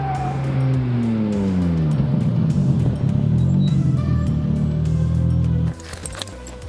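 A 2014 Honda Civic Si, weight-reduced and track-aligned, revs loudly and steadily on a race track with rising and falling pitch, tires working hard, then abruptly drops away near the end.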